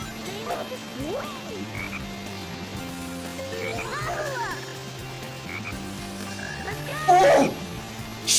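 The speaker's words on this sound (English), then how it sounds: "Did you guys hear a croak? I've heard several croaks." Frogs croak repeatedly in a rainforest level of the Sonic Heroes video game, their short, rhythmic calls sounding at a moderate distance over steady game music and ambience, with a louder burst near the end.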